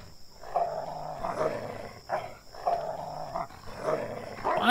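A dog in a horror video game growls aggressively in repeated, rumbling bursts about once a second, close and moderately loud, with faint ambient background and no speech.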